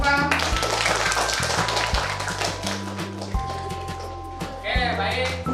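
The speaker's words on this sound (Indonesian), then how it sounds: "Ya, beri tepuk tangan." A classroom of students claps in steady applause, close and fairly loud, with a few voices and tonal sounds mixed in over the few seconds.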